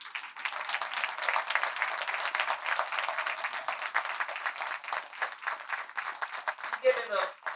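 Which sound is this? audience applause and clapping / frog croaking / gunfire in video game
audience applause and clapping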